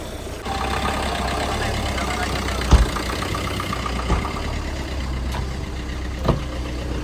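A car engine idles steadily before a road trip to a temple: an even, low rumble close by, broken by a few soft knocks and clunks.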